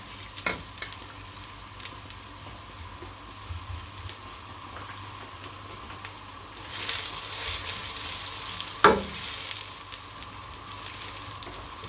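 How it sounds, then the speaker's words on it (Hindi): Onions frying in hot oil for chicken biryani make a faint, steady sizzle, broken by one louder surge of hissing midway as they go into the pan, plus a single sharp clatter; no one talks. "अब इसके अंदर प्याज डाल देते हैं।"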